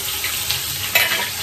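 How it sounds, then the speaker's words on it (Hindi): Steady crackling sizzle of cumin, garlic and chilli frying in hot oil, close up, with a brief louder spatter near the end. "ये मैं पहले फ्राई कर रही हूँ जीरा और लहसुन मिर्चा का तड़का दे करके।"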